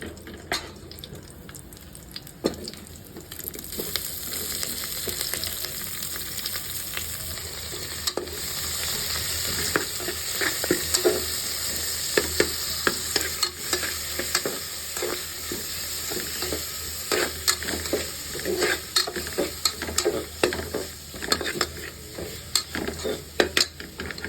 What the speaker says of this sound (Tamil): பூண்டு பேஸ்ட்டு வெங்காயம் கருவேப்பிலை தக்காளி இது எல்லாத்தையும் போட்டு நம்ம நல்லா வதக்கிக்கலாம்